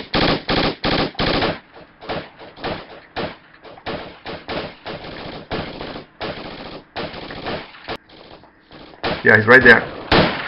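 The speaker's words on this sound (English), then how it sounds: "keep firing at that rock" Gunfire in the video game Project Reality, loud rapid bursts of automatic fire close up, then scattered single shots and shorter bursts, with a voice speaking briefly between the shots.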